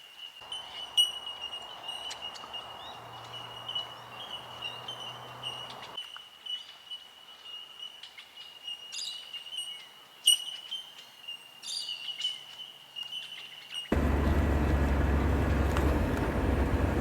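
Birds chirp and tweet at intervals over a steady high insect-like whine, fairly faint, until a loud broadband rush of noise takes over near the end.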